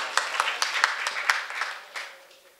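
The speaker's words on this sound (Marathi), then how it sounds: "एकदा नानासाठी एकदा जोरदार टाळ्या वाजवा" Audience at a Marathi devotional kirtan programme clapping for an honoured guest, with steady overlapping hand claps and distinct sharp claps that taper off toward the end.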